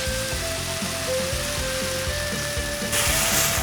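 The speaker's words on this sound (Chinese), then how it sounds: "放入雪白菇，快速的翻炒。" Eggplant, tomatoes and white beech mushrooms stir-fried in a pan give a steady close sizzle with soft scraping stirs, growing slightly louder near the end; no talking.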